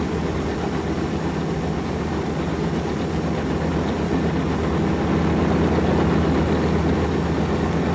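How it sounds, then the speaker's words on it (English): B-24 bomber's big Pratt & Whitney radial engines warming up after start, a steady, loud, low rumbling drone that holds constant with a slight swell toward the end, no voices. "As each engine fires, Kelly checks the oil pressure gauge to make"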